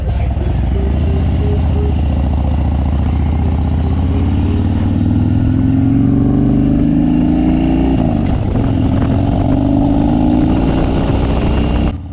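A Harley-Davidson Dyna motorcycle fitted with a Bassani 2-in-1 exhaust rumbles loud and close, its deep engine note rising in pitch as it revs and accelerates, running steadily for the whole stretch with no voices over it.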